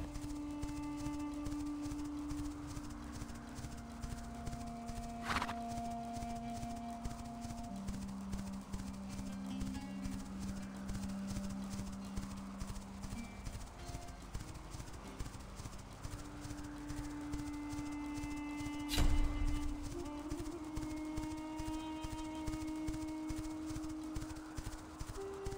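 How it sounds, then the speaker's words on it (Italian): Horse in The Quinfall beta trotting with steady, rhythmic clip-clopping hooves under game ambience and music, faint and continuous throughout, with a brief louder knock near the end. "intanto ci vediamo il cavallo che va"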